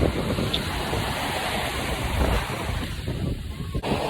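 Ocean surf washes onto a beach at West Palm Beach, Florida, a loud continuous roar of breaking water mixed with heavy wind buffeting the microphone.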